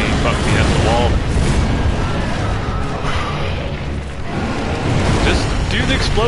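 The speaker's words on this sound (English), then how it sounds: "Just do the explosion." A thunderous explosion rumbles and crashes through the Dark Souls 3 game, a loud, continuous roar of booming and debris lasting several seconds with no voice over it.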